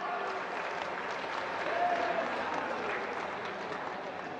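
An audience at a government programme in Odisha breaks into sustained applause, a dense, even roar of clapping from a large crowd with faint voices mixed in.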